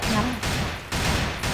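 Bursts of AK-74 automatic rifle fire in the first-person shooter CrossFire, two dense volleys separated by a short gap, loud and close, filling most of the moment.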